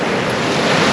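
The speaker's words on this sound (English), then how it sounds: "It's still windy." Strong wind buffets the microphone on the beach at Kilnsea on the UK east coast during sea fishing, a loud continuous roar mixed with surf that fills the whole moment without talk.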